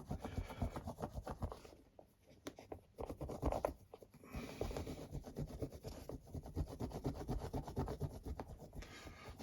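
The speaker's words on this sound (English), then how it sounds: "It takes a lot of rubbing to get rid of all the grime" Steady close scrubbing and rubbing on a grimy WWII medal, an uneven run of soft scratchy strokes that briefly eases before continuing, with no talk.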